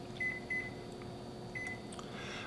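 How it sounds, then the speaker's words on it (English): A microwave oven hums steadily while heating lamb stock in a coffee cup, with a few thin high beeps. "Took it over to the microwave and microwaved it for 2 minutes."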